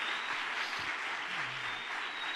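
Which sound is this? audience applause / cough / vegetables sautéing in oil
audience applause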